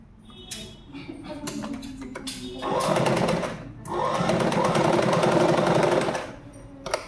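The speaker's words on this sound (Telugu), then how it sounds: "నేనైతే నార్మల్గా పెద్ద కుట్టేసుకుంటున్నా" A sewing machine stitches a blouse in rapid mechanical bursts, with a short pause in the middle. Someone speaks faintly between the runs.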